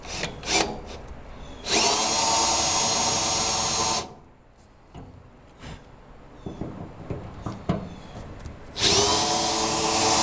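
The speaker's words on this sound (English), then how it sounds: "So use 1/8 inch drill bit, drill through it." A power drill with a 1/8 inch bit drilling out a broken bolt on a 1946 Ford Convertible whirs loudly up close in several sustained bursts, with quieter scraping and clicking of metal handling in the pauses.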